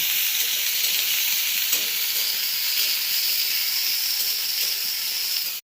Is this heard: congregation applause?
no